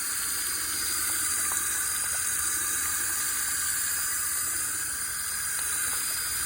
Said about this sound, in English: So I'm just going to give it a rinse off with the shower attachment first.